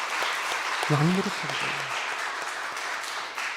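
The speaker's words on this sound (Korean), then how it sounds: "우리한테 한번 박수 한번 해봐요" A church congregation applauds during a Sunday morning service at Iksan Galilee Church, a soft, scattered patter of clapping heard beneath someone speaking.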